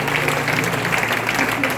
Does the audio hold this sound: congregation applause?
yes